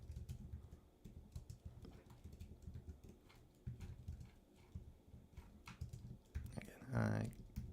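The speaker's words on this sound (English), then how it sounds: "I'm typing with the mic in front of my keyboard" Typing on a computer keyboard with a microphone just in front of it: steady, close, rapid clacking of keys in uneven bursts, ending in a louder handling thump, with low talk faintly underneath.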